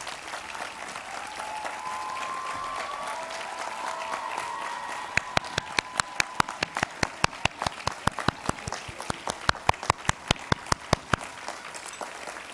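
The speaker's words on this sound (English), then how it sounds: "we can give them all a round of applause if you're able" A university commencement audience applauds the faculty in a broad, distant wash of clapping with a few cheers, then one nearby person claps in loud, steady, evenly spaced beats over the fading crowd.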